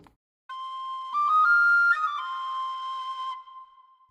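Flute tone from a medieval-style sample library, a steady sustained note that shifts pitch briefly in the middle before settling back and fading, played alone and fairly clean.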